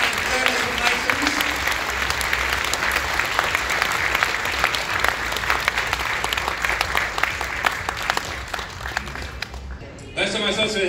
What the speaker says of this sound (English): a huge round of applause for all the generous winners and donors of items